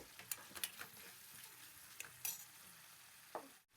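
A spoon stirring prawn curry in a pan, quiet sizzling under a series of scraping and clinking strokes spaced irregularly, close by.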